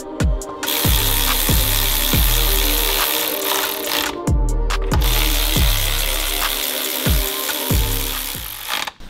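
A power tool, likely an impact wrench, drives transmission bolts on an all-wheel-drive Honda fitted with a dog box, loud and close, in a run of short repeated rattling bursts with brief pauses between them.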